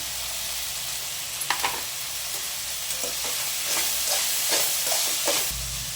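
Chopped tomatoes fry in a pan alongside a paste for a village-style bitter gourd gojju, giving a steady broadband sizzle with scattered stirring scrapes and spatters, close and moderately loud, with no talking.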